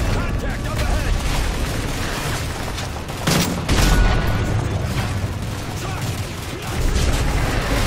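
Call of Duty: Modern Warfare 3 gunfire crackles in bursts with a couple of heavier booms midway, set against a steady low rumble of battle noise.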